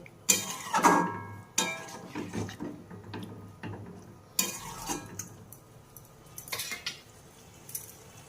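Fried mushrooms are stirred into potatoes and spices in a pan, making a few clattering scrapes of a utensil against metal, with quieter scraping and shuffling in between.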